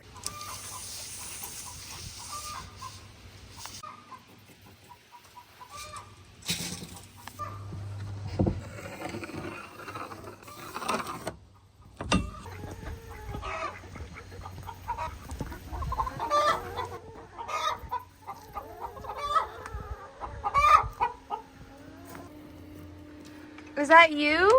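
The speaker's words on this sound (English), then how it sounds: "Please excuse the chicken. I guess she's currently laying." A laying hen clucks and squawks repeatedly in loud, irregular bursts, with people talking intermittently nearby.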